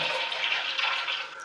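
Steady hiss of water rushing into a toilet tank as it refills after the flush is manually lifted, close and continuous, with no talking.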